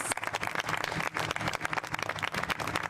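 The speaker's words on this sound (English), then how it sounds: "Can we just give a round of applause to the fantastic partners?" A crowd claps steadily, a dense patter of applause at moderate distance that continues without pause from start to finish.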